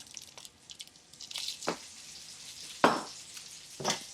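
Butter and olive oil sizzle softly in a frying pan, with a quiet, steady crackle broken by a few brief louder spits; no one speaks.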